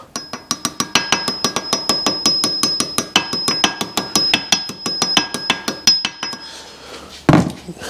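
A bearing is driven onto a Subaru WRX engine part with a hammer on a socket, giving a steady series of sharp, ringing metallic strikes at close range, about four per second, ending with a louder clunk.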